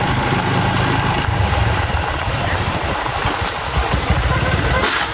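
A motorcycle engine idles steadily throughout as the bike is parked, a loud, continuous low rumble with no revving.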